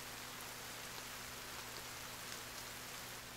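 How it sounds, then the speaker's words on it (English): Steady, even rain hisses in The Forest video game, a continuous wash of raindrops at moderate level with no breaks and no voices. "Apparently, there's rain sound, but there's no rain."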